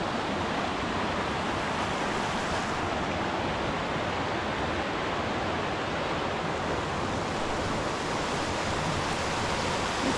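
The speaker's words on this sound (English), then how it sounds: "Nice little waterfall hidden behind there." Constant broadband rushing of falling water, steady and loud with no breaks, filling the whole stretch without any voices.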